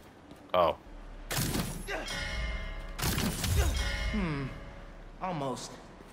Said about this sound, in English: Now to ring the bell.